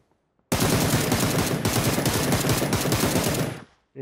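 Fully automatic gunfire in PUBG starts abruptly after a short silence, a loud continuous rapid burst lasting about three seconds before cutting off.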